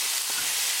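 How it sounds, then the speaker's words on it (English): Spinach and lamb keema being stirred in a hot pan over a medium gas flame, giving a short burst of steady, close hissing sizzle with a few faint scrapes of mixing. "Mix it"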